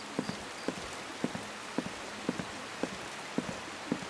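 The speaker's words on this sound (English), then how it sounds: "It's raining." Steady video game rain in Skyrim patters on a surface with regular soft thuds, a continuous wash of drops with no voices.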